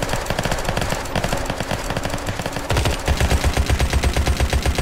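Automatic gunfire from the Unturned survival shooter, loud continuous rapid bursts that grow heavier and deeper partway through, with no talk.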